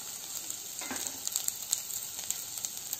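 Paneer with spices fries in a kadhai while being stirred, a constant close sizzle with light scraping ticks scattered through it.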